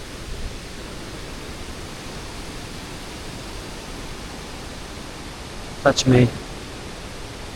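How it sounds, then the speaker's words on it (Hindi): A waterfall on a Himalayan trek gives a steady, even rush of falling water throughout, with a brief voice speaking near the end. "पीछे जो ब्यूटीफुल सा ये वाटरफॉल है वो भी है।"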